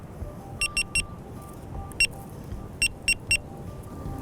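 A Nash Siren R3 bite alarm gives high electronic beeps in short bursts: three quick beeps, one single beep, then three more, clear over quiet background noise.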